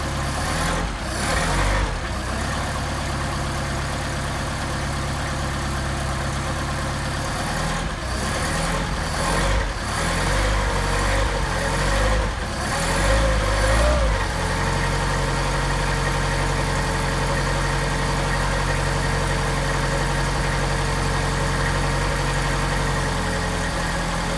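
A Mercedes 190SL engine fitted with Solex carburettors runs at a cold idle, a steady loud rumble with a slight wobble in pitch, continuing alone without talk.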